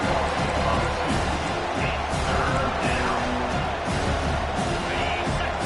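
A home crowd in a college football video game roars steadily and loudly, a dense continuous wall of cheering and noise through the whole stretch with faint voices under it.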